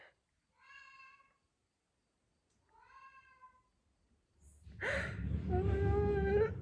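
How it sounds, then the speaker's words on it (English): A domestic cat meows, two short faint calls followed by a louder, longer, drawn-out meow close by, with a quiet room between them. "I don't know what's wrong with my cat."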